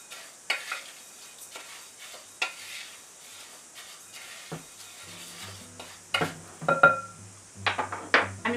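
A metal spoon stirs dry rice in a bowl while a heat pack is being made, giving scattered scraping and clinking strokes that grow louder and busier toward the end, with a low hum underneath.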